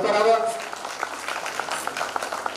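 A crowd breaks into applause at a district-level prize-giving ceremony, with scattered clapping rising just after a short burst of voice.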